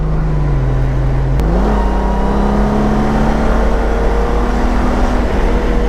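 A Honda 1800 DCT motorcycle set to rain mode, throttle opened fully, gives a loud, close, steady engine drone whose pitch dips and then climbs slowly and only slightly, with no sharp rev surge.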